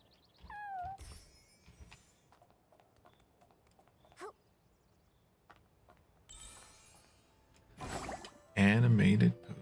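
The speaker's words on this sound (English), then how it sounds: "Give the cat the pets." A cat in the game Infinity Nikki gives a short, rising meow near the start, followed by scattered chirpy game effects and a loud crunchy burst toward the end.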